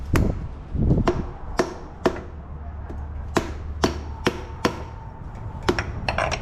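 Sharp metallic hammer taps seat a seal at an irregular pace, about a dozen hits ringing out over a low steady hum, close and fairly loud, during a 1981 Dodge D150 360 engine and 727 transmission reseal.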